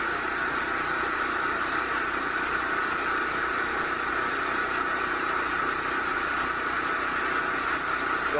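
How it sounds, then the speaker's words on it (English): A DuroMax XP5500EH dual fuel portable generator runs on gasoline with a steady, even hum and a fairly loud, unbroken drone, heard alone with no talking. "DuroMax XP5500EH gas powered generator."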